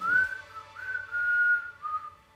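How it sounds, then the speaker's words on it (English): A person whistles a short tune of four sustained notes, clear and close, with slight pitch glides between them and no talking. "Can you whistle?"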